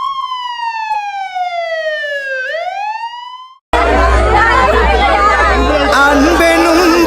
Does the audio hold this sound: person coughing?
no